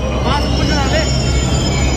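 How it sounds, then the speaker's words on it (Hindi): A Delhi metro train pulls into the station with loud, steady rumble and high wheel squeals and whines, with no one talking. "और हमारी मेट्रो आ चुकी है।"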